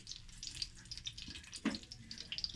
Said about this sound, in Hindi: वो जो है वो फ्राई हो रहे हैं, उनको हम फ्राई होने दे रहे हैं।